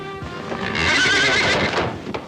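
A horse whinnies loudly and close by, a single rising and falling neigh lasting about a second, with a brief hoof sound.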